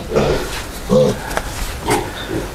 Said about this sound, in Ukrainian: Это, походу, самая маленькая свинка.